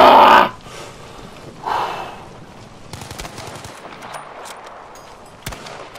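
Gunfire in the video game Battlefield Firestorm, one loud opening burst followed by a softer report and scattered distant shots over a low rumbling game ambience.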